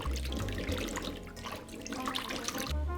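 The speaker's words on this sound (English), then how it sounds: "Then rinse them thoroughly." Tap water runs steadily into a sink as fresh green beans are rinsed, a continuous close splashing wash with faint dripping and no talk.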